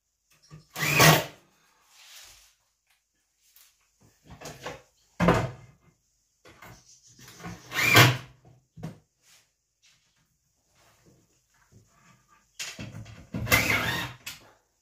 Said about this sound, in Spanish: Armamos los gaveteros.